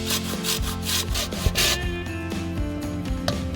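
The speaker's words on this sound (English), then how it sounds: "I wash the lemon and apple so that I can grate the lemon peel into small pieces." Lemon peel is grated in quick, rhythmic rasping strokes, close and fairly loud, with no voices over it.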